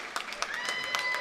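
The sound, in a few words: crowd applauding a volleyball player's 1,000th career kill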